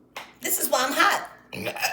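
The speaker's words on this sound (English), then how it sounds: "Ooh, confirmation burp, excuse me." A person lets out a drawn-out vocal burp, close and fairly loud, followed by a brief second burst of throaty sound.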